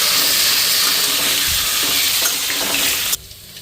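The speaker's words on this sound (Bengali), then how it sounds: "এই যে দেখো পুঁটি মাছগুলি ভাজছি" Small puti fish frying in oil in a kadai, giving a loud, steady close-up sizzle and crackle that cuts off abruptly near the end.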